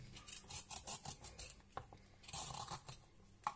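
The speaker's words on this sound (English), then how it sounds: "now I'm going to peel the carrots." A vegetable peeler scrapes along carrots, giving quick, rhythmic rasping strokes in close succession, each one short and crisp, with a few brief pauses between runs.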